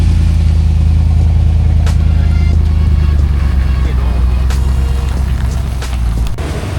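A car being moved out of a work area at a flagstone installation site rumbles loudly and steadily up close, with clattering and scraping over the low engine drone.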